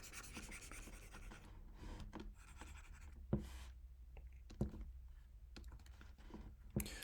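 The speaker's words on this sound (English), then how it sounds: "let me erase this part." Eraser rubbing writing off a board during a statistics lecture, soft scratchy strokes in short bursts with a few sharp taps, fairly faint in a quiet room.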